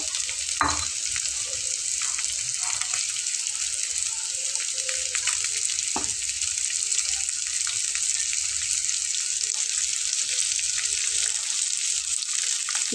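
Continuous bright sizzling of fish frying in a pan, with a few soft clinks and splashy bursts as water hits the hot oil.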